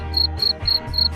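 Farmed crickets in a cricket-breeding setup chirping close and loud in a regular pulsing rhythm, four shrill bursts over a low steady hum, with no voices.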